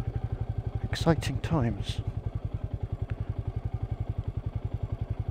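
Royal Enfield Meteor 350 motorcycle riding off-road downhill through trees, its single-cylinder engine thumping steadily and close throughout while the rider speaks briefly over it.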